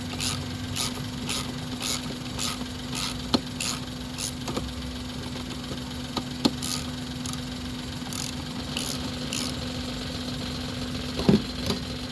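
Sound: Suzuki Celerio engine idling with shaking vibration

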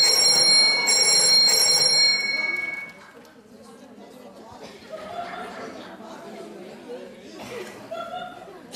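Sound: mobile phone ringing in the studio audience

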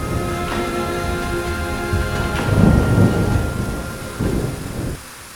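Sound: sudden rain with thunder at camp in Bandarban

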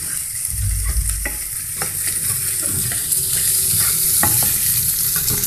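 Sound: stirring vegetable stir-fry with egg in pan

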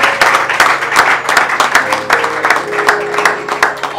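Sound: wedding guests clapping and applauding

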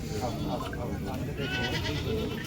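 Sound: goats bleating at livestock market

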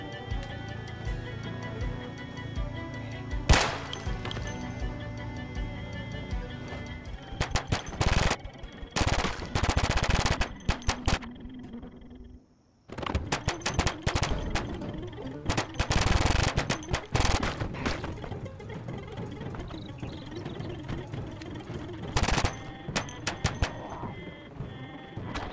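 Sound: 12-gauge shotgun gunfire in Project Zomboid video game

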